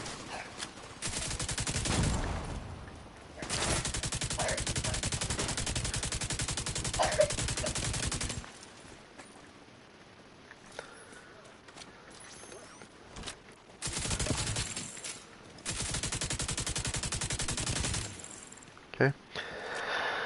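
Bursts of weapon gunfire in The Division 2 shooter game on PS5, long sustained volleys in several separate stretches with quieter gaps between, loud and close, with a few sharp single shots.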